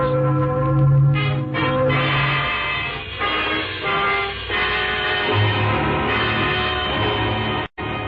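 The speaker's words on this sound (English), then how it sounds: "It's Sunday morning. Those are wedding bells, darling." Loud, resonant church wedding bells ringing continuously on a Sunday morning, with overlapping tolls and sustained overtones, full and close.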